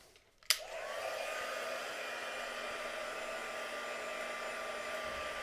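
A hair dryer clicks on and then blows with a steady, even whir, drying paint on gessoed watercolour card during a mixed media demo; it runs alone at moderate distance with no talk.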